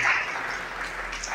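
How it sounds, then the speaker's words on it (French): An audience at a high-school graduate awards event in Bargny claps for the deputy mayor, a short burst of steady indoor applause with no one speaking. "Sur vos applaudissements, s'il vous plaît."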